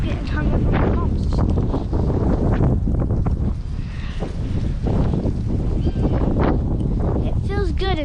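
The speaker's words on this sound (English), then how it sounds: "It feels good until that wind starts coming through here." Wind buffets a head-mounted camera microphone during an outdoor fishing trip, a loud continuous rumble that mixes with talking voices throughout.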